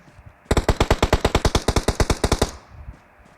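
Automatic rifle fire in the battle royale game PUBG: a single loud sustained burst of around twenty rapid shots, close and evenly spaced, lasting about two seconds before trailing off.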